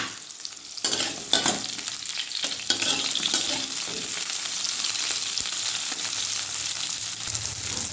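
Pointed gourd fries in a pan with a continuous loud sizzle, punctuated by scraping and knocking as a utensil stirs the pieces, with no voices.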